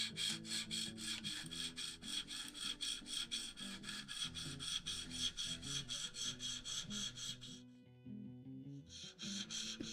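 A Spyderco Tenacious knife is drawn across a 300-grit stone on a KME sharpening system, a rapid, rhythmic series of close scraping strokes with a brief pause before they resume; no talking.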